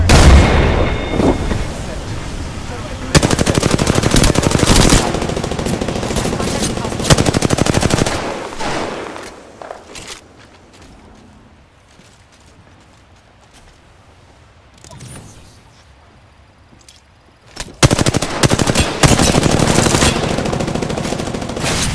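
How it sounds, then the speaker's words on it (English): Gunfire in the Apex Legends video game rattles in long, loud automatic bursts with heavy booms, drops away to a quieter stretch midway, then returns in full near the end. "I am taking fire, friends."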